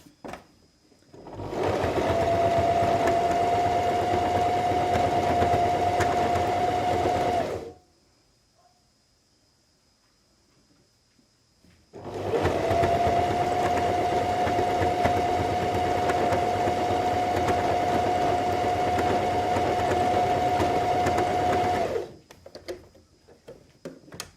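Sewing machine stitching a fabric cat snug, running in two long steady bursts of several seconds each with a quiet pause between, close and loud with a constant motor whine.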